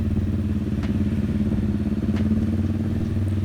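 A Kawasaki Vulcan S 650 motorcycle from 2015, fitted with a replaced aftermarket exhaust and a bobber-style setup, idles close by with a steady, deep, throbbing low rumble and fine rhythmic pulsing throughout.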